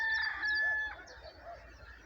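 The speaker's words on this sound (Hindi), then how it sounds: "हर तरफ परिंदों की चहचहाट" A rooster crows at close range in a village on a morning walk past wheat fields, one drawn-out call followed by softer clucking and faint bird chirps.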